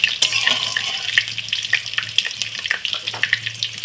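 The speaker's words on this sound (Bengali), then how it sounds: "5 ফোড়ন আর শুকনো লঙ্কা আমার ভালোভাবে ভাজা হয়ে গিয়েছে" Panch phoron spices and dried red chilies fry in hot oil with a loud, close sizzle and sharp spitting crackles, accompanied by a low steady hum underneath.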